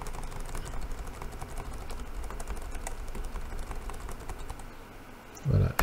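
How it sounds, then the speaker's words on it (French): Quick key presses on a computer keyboard during a restart, a run of faint light clicks at close range, ending in a brief louder thump. "on appuie sur la touche F9 et la touche échappe"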